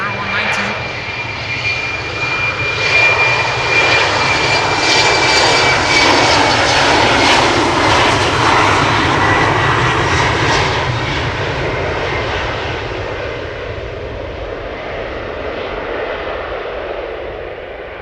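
A KLM Embraer 190 jet departs for Glasgow with a loud, sustained engine roar close by that builds to a peak and then slowly fades as the aircraft climbs away, a faint whine riding on top. Someone talks over part of the noise.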